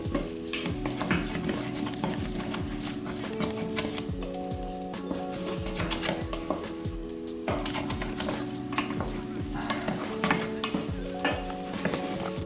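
Choux panade dough for a Paris-Brest is stirred and dried out in a pan. A spoon or spatula scrapes the base in steady, rhythmic strokes with a soft sizzle underneath and occasional metallic clinks.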